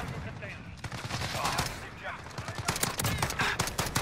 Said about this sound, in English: I'm getting shot from an angle where I can't see him at all